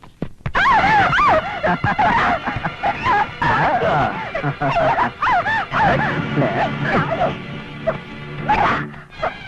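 A dog in a Tamil film scene whimpers and barks loudly and close, with rising and falling whining cries mixed with sharp yelps and human voices.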